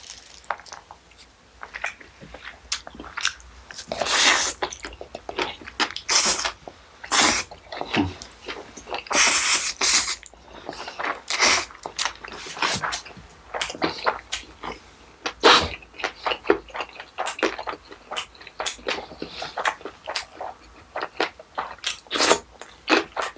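Bibim noodles wrapped with pork belly and pickled radish are chewed close up in a long run of wet, crunchy bites and squishy mastication, loud and rhythmic, with no talking.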